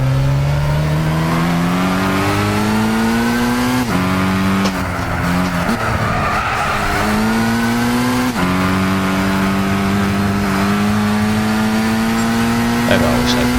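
Race car engine in Gran Turismo 6 revving continuously and loudly, pitch climbing through gears with brief drops at shifts, plus occasional tire squeal; someone talks over it.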